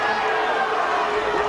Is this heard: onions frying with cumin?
no